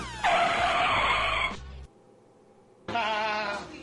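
A car braking hard and skidding as a sound effect: a loud, broad tire screech for over a second, a short pause, then a second burst of squealing.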